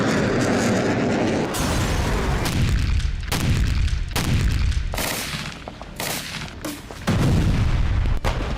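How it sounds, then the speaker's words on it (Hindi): Israeli artillery shelling, with a series of heavy booming explosions rolling out one after another, each blast loud and resonant with a long decaying rumble, no talking. "आर्टिलरी से भी गोलाबारी की जा रही है।"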